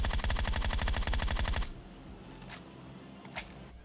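Rapid automatic gunfire in the mobile battle-royale game PUBG Mobile, a dense, loud burst of shots lasting about a second and a half, then a few isolated distant shots.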